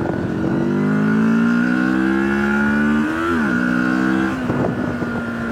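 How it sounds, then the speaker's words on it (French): A Moto Morini 650 X-Cape motorcycle engine revs up loudly and steadily, its tone climbing, then dipping around a gear change before settling into a sustained drone. "ce qui est surprenant, dans le bon sens, c'est la sonorité du moteur"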